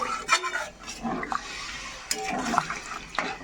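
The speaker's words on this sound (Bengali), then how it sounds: "এবার জল দিয়ে দিচ্ছি" Water tipped into a pan of spiced masala for a boal fish curry, a sudden gushing splash and gurgle up close, followed by quieter sloshing and a few light clinks of cookware, with no voices.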